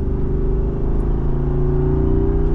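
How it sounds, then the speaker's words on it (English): A Jeep Wrangler Rubicon 392 V8 drops into third gear on a twisty road, its deep rumble and rising revs steady and close, with a strong low drone throughout. "So gonna downshift here, third gear."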